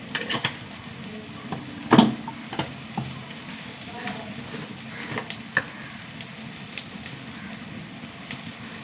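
Sautéed onions sizzle in a pan as turmeric powder goes in, a moderate frying hiss with occasional stirring clatters and one sharper scrape near the start.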